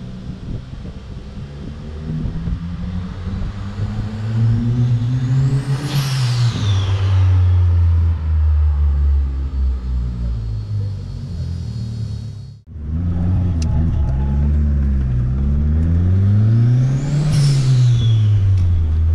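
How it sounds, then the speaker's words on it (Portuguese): Chevrolet Kadett GL turbo with a forged engine making about 300 hp, revved hard twice, each rise and fall carrying a whooshing turbo spool. Loud and close, with a brief dip between the pulls and no talking. "E você vê que essa turbina, ela enche rápido também."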